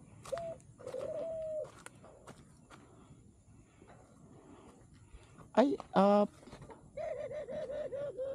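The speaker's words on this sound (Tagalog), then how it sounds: "Parang kalapati lang siya, ordinaryong kalapati." A pigeon coos in a few short repeated phrases at close range, with quieter background sounds and some human voices around it.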